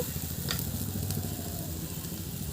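Hog plums fry in a pan for pickle, giving a soft, steady sizzle with a low background rumble and a couple of light clinks.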